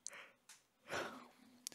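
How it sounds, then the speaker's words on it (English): A pregnant woman gives a single quiet yawn, a soft breathy intake swelling into a drawn-out exhale with faint mouth clicks, close and alone. "That was a yawn because why not?"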